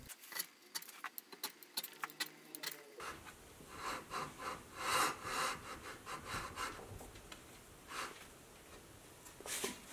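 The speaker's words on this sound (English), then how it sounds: "I'll use the scraper to break up the larger high spots" Hand scraper rasping across the surface of a cheap milling vice to knock down high spots, a series of short close scraping strokes in irregular rhythm, fairly quiet, with no talk.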